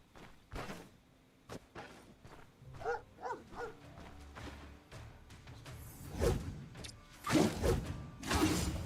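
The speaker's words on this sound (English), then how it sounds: "Oh, more dogs." Dogs barking in the Stoneshard video game, scattered barks and yelps mixed with whooshes and mechanical clanks, growing louder and busier toward the end.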